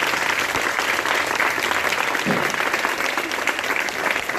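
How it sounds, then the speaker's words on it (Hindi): Loud, dense applause from a crowd at an Independence Day flag-hoisting ceremony at a government girls' high school in a village, a continuous roar of clapping that holds steady throughout without pause. "जोरदार तालियां बजाएं।"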